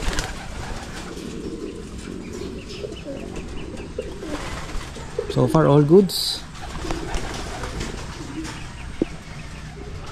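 Pigeons coo softly in a loft, with one closer burst of cooing in the middle, while a person talks over steady background noise.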